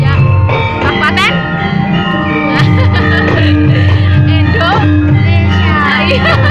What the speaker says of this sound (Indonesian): yang di belakang kalian mendengar tang ting tong teng tong teng tong ya, ini adalah gending Jawa